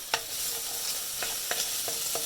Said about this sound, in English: I'm going to tip our onion into the pot. And our garlic